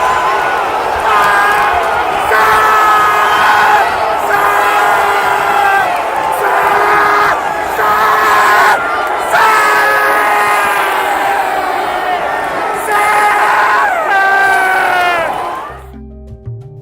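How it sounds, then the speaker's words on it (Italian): Away football fans in a stadium roar and chant in celebration after a last-minute goal deep in stoppage time, a loud, sustained crowd din with rhythmic waves of chanting before it cuts off abruptly. "È festa tra i tifosi ciociari in trasferta"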